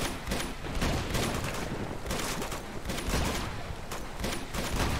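Dense, continuous gunfire fills a firefight in Uncharted 2: Among Thieves on PS4, with overlapping shots and bursts rattling loudly and without pause.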